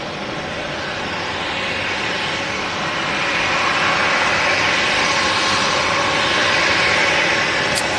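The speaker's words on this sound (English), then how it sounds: "just vacating the runway customers is the Boeing 737-800, Ryanair flight 1144 from Berlin" A Ryanair Boeing 737-800 rolls off the runway at Manchester Airport, its jet engines producing a loud, steady roar that swells slightly midway and holds without pause.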